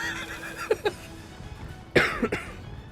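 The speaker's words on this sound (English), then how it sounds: "Apologies for coughing, by the way, guys." Two clusters of harsh, close coughs, a pair of quick coughs followed a second later by a louder burst of three, with no speech.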